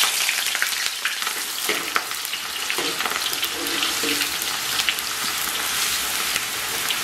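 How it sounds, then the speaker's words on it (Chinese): Shredded scallion and ginger drop into moderately hot oil in a wok and sizzle continuously, a dense, close crackle with occasional stirring scrapes and no speech. "油温三成热左右啊，咱们把葱姜丝给它下里边"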